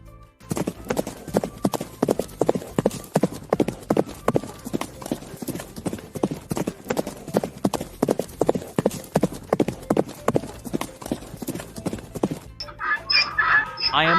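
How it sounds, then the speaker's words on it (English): Horse hooves clip-clop in a steady, fairly close rhythm for about twelve seconds, then a short neigh or whinny rises at the end. "I am a horse."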